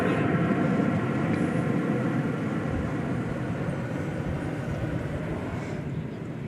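Boeing 777 airliner departing DFW bound for London Heathrow, a broad, steady jet engine rumble that fades slightly as it goes, with no voices over it.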